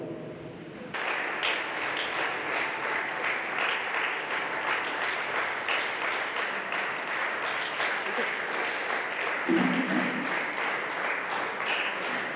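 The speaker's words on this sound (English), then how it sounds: "kindly stand up and give a loud round of applause as our dignitaries make their way into the hall" An audience at a school talent fiesta breaks into loud, sustained applause as dignitaries enter the hall, steady clapping filling the room for about eleven seconds after a brief quiet start.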